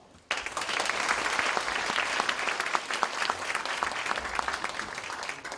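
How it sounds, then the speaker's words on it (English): An audience applauds Dr. Han Chibong, President of the Asan Institute, at a conference, the dense clapping starting abruptly after a brief pause and holding steady and fairly loud throughout. "Please give a round of applause for Dr. Han."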